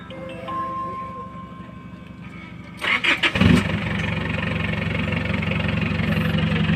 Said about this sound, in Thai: เดี๋ยวจะติดเครื่องดูครับ